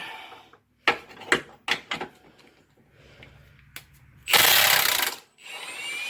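A 15/16 wrench works loose a lower control arm bolt on a 2011 Dodge Avenger, with sharp metallic clanks and clicks spaced out, then a loud harsh burst of scraping near the end.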